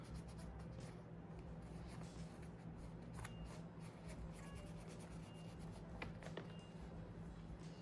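A cloth soaked in acetone rubbing over a Yeezy 350 sneaker to lift scuffs, a steady close, soft scrubbing swish that continues without pause, fairly quiet and with no talking.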